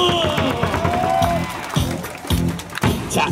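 Stadium crowd clapping along in unison at a KBO baseball game, SSG Landers home fixture, led by cheerleaders; loud rhythmic group claps over music and crowd noise, with brief cheering.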